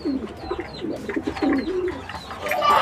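Racing pigeons cooing in a breeder's loft, soft repeated low coos in an uneven rhythm close by, with a brighter rustle of wings or birds building near the end.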